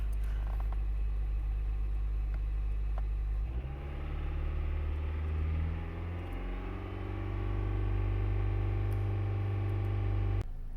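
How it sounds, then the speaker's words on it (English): A 4-cylinder Honda Accord engine held at 3000 RPM, a steady low hum and rumble that rises in pitch and loudness a few seconds in, then holds evenly before dropping off near the end. "Now what you have to do is hold it at 3000 RPM until it reaches operating temperature"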